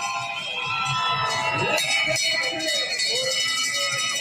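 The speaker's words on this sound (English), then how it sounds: "They get the bell." A bell rung for the final lap of an under-23 bike race, clanging repeatedly over crowd noise and cheering with a commentator talking over it.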